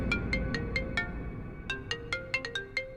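A mobile phone ringtone plays a repeating, bright electronic melody for an incoming call, steady and fairly close, with no talking over it.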